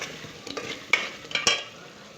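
Potatoes frying in a pan with masala and red chilli are stirred in, a soft crackling sizzle under several scraping strokes and light clinks of a spoon against the pan.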